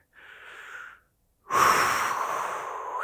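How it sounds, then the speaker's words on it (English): One person takes a deep breath: a soft inhale, a brief pause, then a longer, louder exhale that fades slowly, close to the microphone. "Take a few deep breaths."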